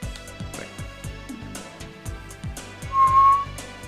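Flute played in the CD-i game Zelda: Wand of Gamelon: a brief, clear, whistle-like note rises over a steady rhythmic in-game music loop near the end.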